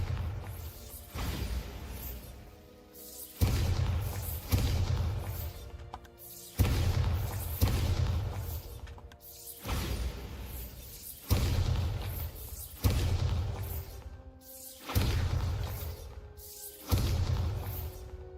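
Bombarda blasting spell in Hogwarts Legacy, a series of about nine loud booming explosions at a steady rhythm, each with a deep thump and crashing debris fading out, close and without talk.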